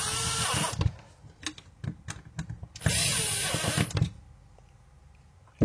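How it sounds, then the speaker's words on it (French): A hole saw grinds loudly through plasterboard in two bursts of about a second each, separated by short clicks and knocks, then quiet. "une scie cloche placo ça suffit amplement"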